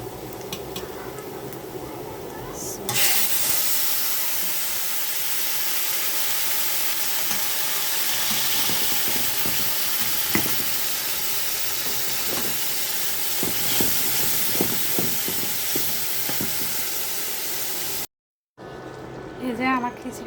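Khichuri tipped onto browned fried onions in a hot pan sets off a loud, steady sizzle that runs for most of the stretch, with scattered scraping stirs, a short pause near the end and no talk.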